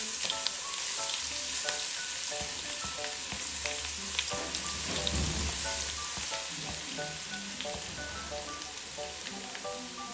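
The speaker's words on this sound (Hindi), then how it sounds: "लहसुन भी हम इसके अंदर ऐड कर देंगे।" Garlic added to onions in a hot pan for matar pulao crackles and sizzles steadily in oil, a dense close frying hiss with occasional stirring scrapes, no talk.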